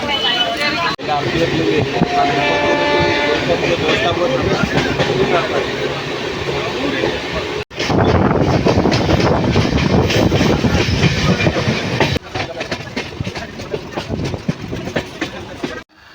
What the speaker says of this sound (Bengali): এইদিকে ইন্টারসিটি বেরিয়ে গেল দেখতে পাচ্ছ